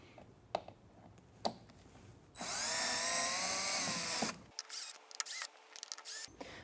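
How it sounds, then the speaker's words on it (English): A power drill fitted with a Phillips bit whirs for about two seconds while backing out screws on a Rialto Reformer, preceded and followed by scattered clicks and handling taps. "We are going to remove these 4 screws here with your drill"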